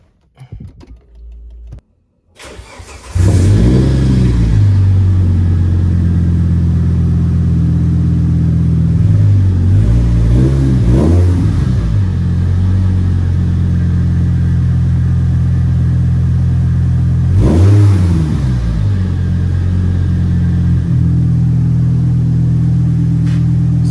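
Car engine with a reworked exhaust cranking, catching and starting, then idling loudly up close with a few revs swelling midway and again later, no talk over it.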